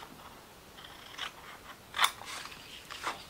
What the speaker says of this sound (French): ce que vous faites, c'est que vous allez le couper